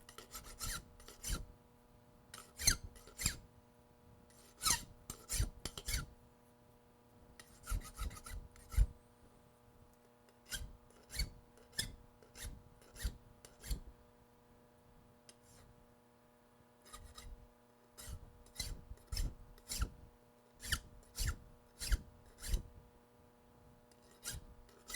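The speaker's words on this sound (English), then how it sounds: "Take some burrs off here so they don't get in the way." A hand file rasps burrs off a metal mounting bracket in bursts of short, rhythmic strokes, with quiet pauses between groups, close and clear with no talk.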